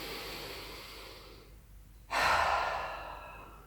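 A deep cleansing breath during a morning yoga routine, with a soft drawn inhale followed by a louder, fuller exhale through the mouth, close and clear with no talking.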